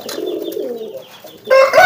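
A racing pigeon coos in low, rolling murmurs at close range. A louder voice cuts in near the end.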